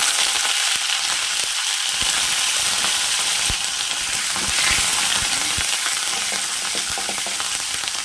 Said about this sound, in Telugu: ఎండుమిర్చి వేసిన తర్వాత కరివేపాకు వేసేసుకోవాలి